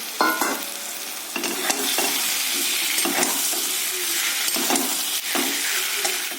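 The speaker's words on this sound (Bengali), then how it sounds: "এবার আমি ভাজা আলুটা একটু দিয়ে দেবো, দিয়ে আর একটু কষিয়ে নেব।" Fried potatoes stirred into hot spiced oil in a pan for a fish dish, giving a steady bright sizzle broken by repeated scraping stirs, close and loud with no voices.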